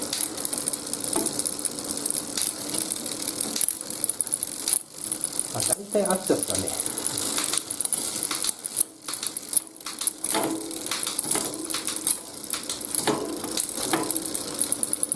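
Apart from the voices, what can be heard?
road bike chain noise on rear derailleur gears while adjusting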